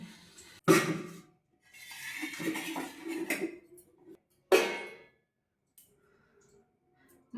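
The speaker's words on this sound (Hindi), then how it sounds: "ये सब बर्तन भी धोना एक टास्क है ठंड के दिनों में" Dishes are washed by hand on a cold day, with intermittent clatters of utensils and pots, stretches of running water, and quiet gaps between.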